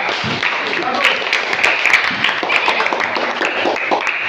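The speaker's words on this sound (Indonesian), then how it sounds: "tepuk tangan dulu untuk teman kita nih" A room full of people at an Indonesian classroom or church gathering claps steadily and fairly loudly for a few seconds, the applause continuing without pause.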